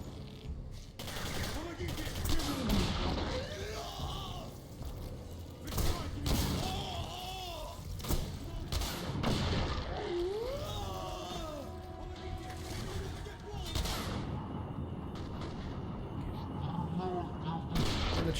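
Weapon fire in the video game Singularity: repeated gunshots and bursts with thuds and booms, plus in-game sound effects, mixed under players talking throughout.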